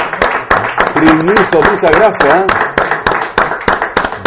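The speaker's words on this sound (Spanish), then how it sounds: "le damos un aplauso a todos los que están aquí en el estudio" A studio audience on a Spanish-language talk show claps in quick, rhythmic bursts that run the whole time. Someone speaks loudly over the clapping.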